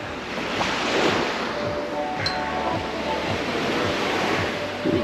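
Surf washing onto Geroskipou Beach in Cyprus, a steady broadband wash of waves with some wind across the microphone, continuous and fairly loud with no talk.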